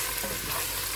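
Garlic and ginger paste frying and being stirred in a pan, a steady dense close sizzle with a faint scrape underneath.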